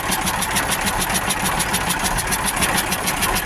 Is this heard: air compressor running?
yes